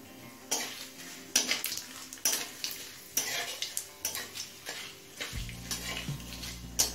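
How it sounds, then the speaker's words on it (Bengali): Dried red chillies, bay leaves and five-spice seeds fry in oil for a Bengali kochu shak dish, with repeated spatula scrapes and clinks against the pan over a steady light sizzle. "শুকনো লঙ্কা, তেজপাতা আর 5 ফোড়নটা লাল করে ভেজে নিয়েছি"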